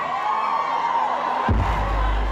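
Women in a crowd shout and cheer at a baile funk show over loud music, a dense roar throughout, with heavy bass kicking in halfway through.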